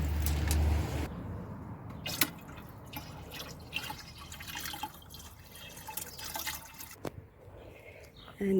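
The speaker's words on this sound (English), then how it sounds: "Okay, so we're gonna add some more water." Water splashes and drips while a vegetable garden is watered, a loud gush at first, then scattered drips, patters and brief splashes over a low background rumble.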